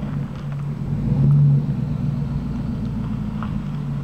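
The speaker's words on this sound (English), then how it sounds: "the only thing you can hear in the background is that truck that you just saw" Low rumbling engine of a truck passing through a quiet residential neighborhood in Rio Rancho, New Mexico, moderately close, swelling briefly mid-clip and then fading into a steady low drone.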